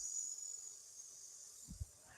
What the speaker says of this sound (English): You can hear the cicadas outside.